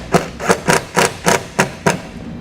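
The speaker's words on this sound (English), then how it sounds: "grab a 5/16 nut driver and we're going to secure that ring terminal directly into the body here" A 5/16 nut driver drives a self-tapping screw through a ring terminal into the body of a 2009 Subaru Forester, giving seven evenly spaced, sharp clicking ratchet-like bursts, close and fairly loud.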